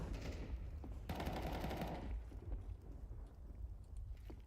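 Gunfire in a Counter-Strike professional esports match, a burst of rapid shots followed by a few scattered single shots, moderately loud over a low game rumble with no talk.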